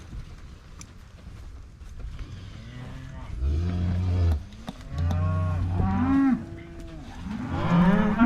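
Cattle in a working corral give several long, deep moos, some overlapping, with others calling near the end over a low wind rumble.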